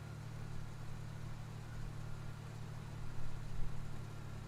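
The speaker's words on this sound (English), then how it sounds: "I heard the sound of an older vehicle pulling up from the distance." An older truck engine rumbles at a steady low pitch from some distance, swelling slightly near the end as it draws closer.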